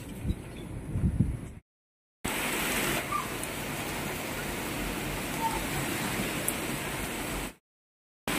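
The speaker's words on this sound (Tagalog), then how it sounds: "bumuhos na talaga guys ang ulan" Heavy rain pours down outdoors in a steady, dense hiss that fills the scene between two short breaks, preceded by a brief stretch of talk and movement.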